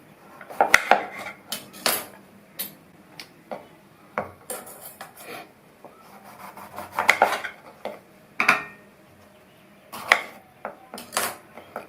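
A knife cutting a snake gourd on a board, a series of sharp irregular clicks and taps with brief scraping between them, close and fairly quiet, spread across the whole stretch with no talking.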